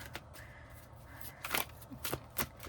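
Tarot cards are shuffled by hand, soft papery riffles and a few sharper snaps and taps spaced irregularly, quiet and close with no talking.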